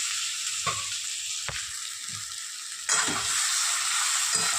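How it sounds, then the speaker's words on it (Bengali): Boiled potatoes frying in oil with spices for aloo dum make a steady sizzle, broken by a few sharp stirring knocks, with the frying growing louder partway through. "আলুটা দিয়েও কষিয়ে নেবো"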